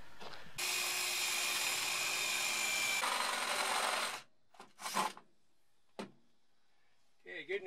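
Power drill boring into the body of a bus during a washer and dryer install, a loud, steady, close whine for several seconds that cuts off abruptly, followed by brief clatters and a person talking.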